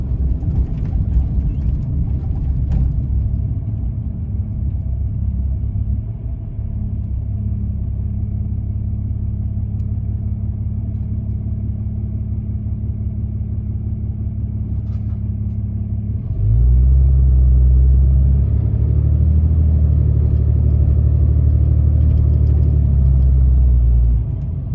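Diesel pickup truck with DEF and EGR deleted and a K&N air filter, driving over a rough, poorly kept road: steady loud engine and road rumble throughout, growing heavier and deeper in the last third.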